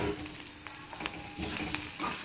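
Ginger pieces frying in a pan for a ginger and curry leaf chutney, a soft, continuous sizzle with small crackles and pops close by.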